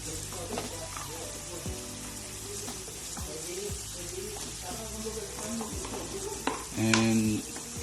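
Squash stir-frying for pinakbet at a beach resort kitchen, a continuous sizzle with repeated stirring clatters and scrapes, close and moderately loud, with background noise and a brief louder clank near the end.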